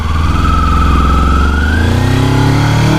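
A 2022 Modenas Kawasaki Ninja 250 ABS motorcycle on a test ride, its engine loud and close, revving up through the gears with a rising whine and a steady throbbing exhaust note.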